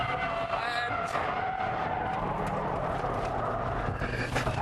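A Subaru Impreza WRX STi flicked into a rally-style slide at speed, its engine roaring continuously with tyre noise, loud and close throughout.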